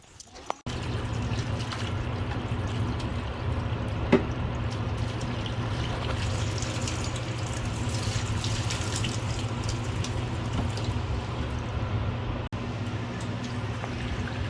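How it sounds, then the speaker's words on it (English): Water runs steadily from a tap into a pot being filled about halfway, a constant rushing hiss that starts abruptly and continues without pause. "I'll only go about half of the pot with water"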